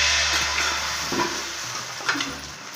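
Cinnamon and cloves frying in a hot pan for a mushroom masala gravy: a sizzle that starts fairly strong and gradually fades, with a few soft clicks of stirring near the end.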